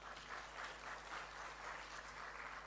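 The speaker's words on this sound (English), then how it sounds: "Clap for yourself." Graduates at a management programme graduation ceremony clapping for themselves, a faint, distant, steady patter of many hands lasting a few seconds.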